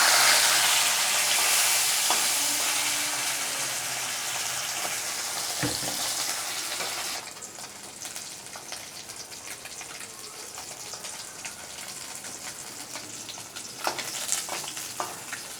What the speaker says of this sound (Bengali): আমি মাছটা ভেজে নিচ্ছি